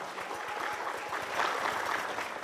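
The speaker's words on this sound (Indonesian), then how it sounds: "Tepuk tangan dulu dong untuk kita semua." A studio audience at a Bali quiz semifinal claps together, a brisk steady patter of many hands sustained at even loudness for a couple of seconds, slightly distant.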